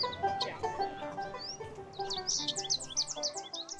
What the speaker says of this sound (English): you might have noticed some birds singing in the background.